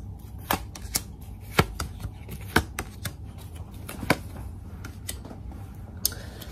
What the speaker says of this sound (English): let's lay out some cards